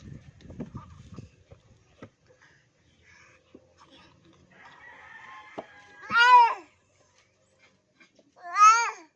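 Two loud, close bird calls ring out late in the sequence, rising and falling like crowing, after a stretch of soft babbling and quiet household noise.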